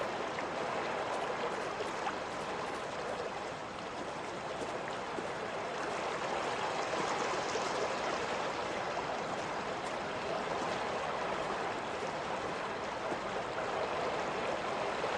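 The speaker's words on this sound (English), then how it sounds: "I'd be so nervous with that river right there." Fast-flowing river in the game Back to Hearth, a constant, loud rushing of water with no pauses or change throughout.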